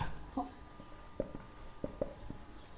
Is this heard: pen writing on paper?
yes